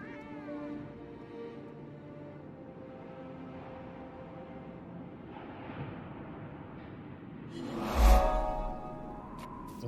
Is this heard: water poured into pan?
no